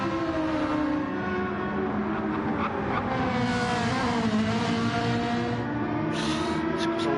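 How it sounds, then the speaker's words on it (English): A Ferrari race car in a racing video game howls at high revs through corners, its engine pitch rising and falling steadily as it shifts, loud and alone without talk. "Flying with the Ferrari right now around most of these corners."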